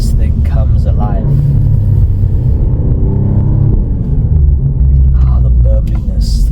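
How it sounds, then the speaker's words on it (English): An Alfa Romeo Giulia Quadrifoglio in race mode gives a deep, loud, continuous engine rumble with resonant burbles, heard up close from inside the car while a person talks over it. "Put it into race mode, and this thing comes alive."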